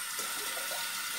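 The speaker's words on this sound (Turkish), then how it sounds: "Bak elimi yıkayım da" Tap water runs steadily into a sink while hands are rinsed, a continuous close hiss with no talk, in a home setting after making slime with dish soap and detergent.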